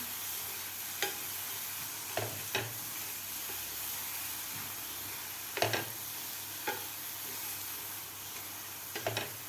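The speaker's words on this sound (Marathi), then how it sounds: "गूळ आपल्याला ह्या नारळाच्या किसमध्ये व्यवस्थित मिक्स करून घ्यायचं आहे" Grated coconut and jaggery being stirred in a pan over a low flame, with soft scraping and occasional sharp spoon knocks against the pan over a faint steady sizzle, no talking.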